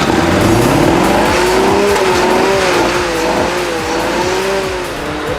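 An old Mercedes, found in a garage where it sat for 18 years, runs its engine loudly up close, rising and falling in pitch as it revs.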